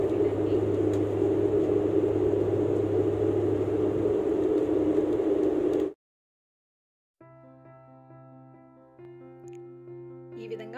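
Steady broadband roar inside a SpiceJet airplane cabin in flight, loud and continuous for about six seconds, then a sudden cut to near silence followed by fainter tonal hum and chime-like sounds.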